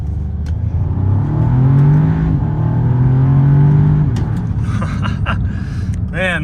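An Audi S3 makes one hard pull from inside the cabin, its engine note climbing in pitch and swelling loud for several seconds before easing off, with a few clicks and a short rising whine near the end.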